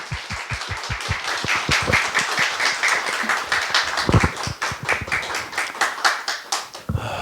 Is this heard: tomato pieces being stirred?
no